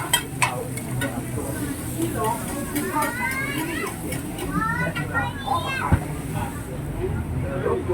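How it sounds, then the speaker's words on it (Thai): Fried shellfish (hoy tod) stir-frying at a crowded fair stall, with steady sizzling and a metal spatula scraping and clinking on the pan. Children's voices and chatter carry over it throughout. "เพื่อนๆกำลังผัดเลยนะครับ"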